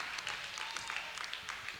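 Faint, distant clapping from a small crowd at a 1987 high school girls' gymnastics meet, light scattered claps for a boys' team vault, quiet and thin throughout.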